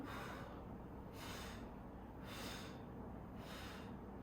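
Slow, steady breaths in and out during a yoga lung-strengthening breathing exercise, three long airy inhalation swells spaced about a second apart, close and soft, with no talking.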